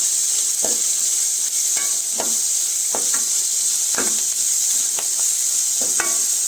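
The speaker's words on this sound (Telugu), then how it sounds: "ఎర్రగడ్డ దోరగా వేగాలంటే కొంచెం ఒక చిటికెడు ఉప్పు వేసుకొని వేయించుకోవాలి" Onions fry with a pinch of salt for a cauliflower curry, making a loud, continuous sizzle up close. Stirring scrapes break in about once a second, with no talk.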